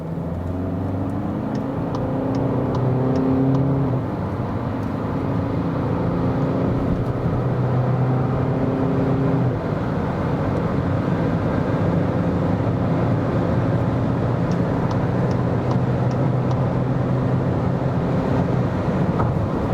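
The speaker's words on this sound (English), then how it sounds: "So we're now accelerating from 50 kilometers an hour to whatever" Inside a 2020 Skoda Octavia Combi estate accelerating hard from 50 to 180 km/h, with a steady engine drone rising in pitch through the gears alongside road and wind noise.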